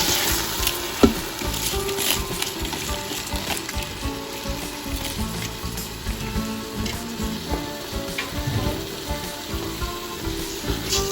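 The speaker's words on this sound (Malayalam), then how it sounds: "ഇനി ഞാൻ കുതിർത്ത് വെച്ച ആ 3 കപ്പ് റൈസ് ഇതിലോട്ട് ഇടാൻ പോവാണേ." Soaked rice tipped into a hot pan for Arabic yellow rice, starting a busy, steady sizzle with a short scrape near the start, close and continuous throughout.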